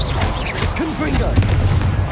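Confringo blasting-curse explosions in Hogwarts Legacy, a series of punchy booms and whooshing magical bursts with a voice heard among the effects.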